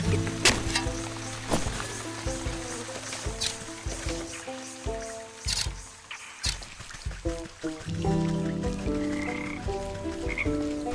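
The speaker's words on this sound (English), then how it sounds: "There's some frogs." A chorus of frogs in a swamp in the video game Wytchwood croaks repeatedly in uneven bursts, loud and close over soft background game music.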